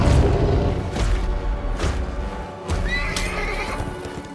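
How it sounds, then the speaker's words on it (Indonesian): A horse gives a loud, shrill neigh amid pounding hoofbeats and heavy thuds as it gallops off, set against dramatic film-score music. "Philip si kuda pemberani milik ayah melarikan diri dan pulang sendirian."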